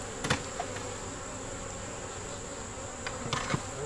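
Honeybees buzz continuously at a hive in a dense, steady drone, with a few louder insects passing close to the microphone.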